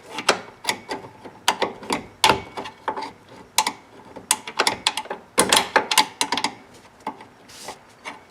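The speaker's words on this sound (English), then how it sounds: "you can just go at it with a screwdriver" A screwdriver pries at the door hinge of a 1990 Chevy pickup, giving irregular sharp metallic clicks, ticks and scrapes in uneven bursts, close and fairly loud with short pauses between.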